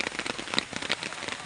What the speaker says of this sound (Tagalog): Yan o, grabe lakas ng ulan.